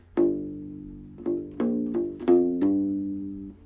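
Short U-Bass groove on flatwound strings: six or so plucked notes in an uneven rhythm with soft slides between them, deep and mellow, played close with no speech.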